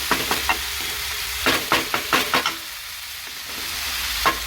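Chicken frying in a pan for a carrot puttu dish, a steady close sizzle with scattered stirring scrapes and clicks, no talk.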